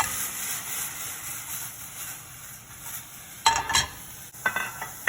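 Broccoli goes into a hot saute pan while orecchiette is being cooked, with a soft steady sizzle followed by a few sharp clattering stirs and scrapes near the end.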